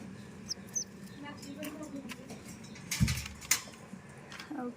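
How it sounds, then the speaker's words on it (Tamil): Two tiny lovebird chicks in a cage give faint, sparse high chirps with a soft clatter midway, and a person talks quietly nearby. "இங்கே பாருங்கள், 2 குட்டி, 2 லவ் பேர்ட்ஸ் வந்து இந்த வீடியோவில் இந்த கூண்டில் வச்சுருக்கோம்."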